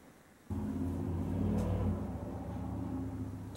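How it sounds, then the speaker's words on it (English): Loud truck passing outside, its engine rumble rising abruptly and holding as a heavy, steady drone before slowly easing, with no talk. "loud ass truck"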